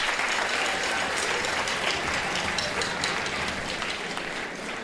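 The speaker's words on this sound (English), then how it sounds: "Please give our guests a round of applause and our parents." Guests and parents at a school assembly give a round of applause, a full, steady burst of many hands clapping throughout, slowly tapering toward the end.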